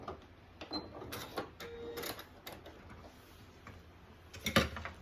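A sewing machine runs short bursts of stitching, sewing a small line forward and backward on a craft photo ID pouch, with quiet ticking between the runs.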